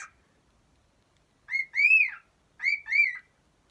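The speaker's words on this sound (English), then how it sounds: "Buddy's actually wolf whistling." A pet cockatiel gives two clear wolf whistles, each a short rising note followed by a longer rising-falling one, loud and close in an otherwise quiet room.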